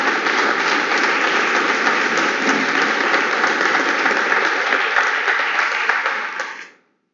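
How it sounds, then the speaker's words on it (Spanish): A church congregation at a Sunday service applauds the Lord: a thick, even wash of clapping holds steady and loud, then cuts off abruptly near the end. "aplaudimos al Señor por la vida de este siervo también."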